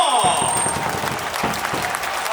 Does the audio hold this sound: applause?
yes